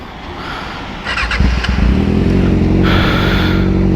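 A Kawasaki ZX6R superbike engine revs up hard from a loud idle into a sustained high-pitched roar, close and very loud, with the buzzing tone climbing as the revs rise.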